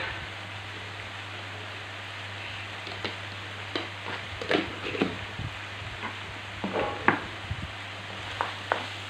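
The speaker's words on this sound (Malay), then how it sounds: "kacau dia bagi pecah-pecah begini" Quiet frying sizzle with a low steady hum, broken by intermittent scraping and clinking as a utensil stirs chicken bolognese sauce in a pan.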